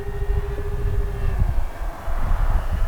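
A Flightline RC B-25J Mitchell model plane flies past with a loud, steady engine drone and a whine that slides lower as it passes, close by.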